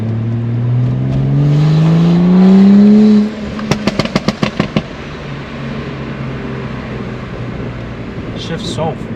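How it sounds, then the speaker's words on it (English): BMW M2 engine revving up, then shifting, with a rising drone cut off by a rapid burst of crackling pops as the revs drop, followed by a lower engine hum under a nearby voice. "Like the engine spins down so quick."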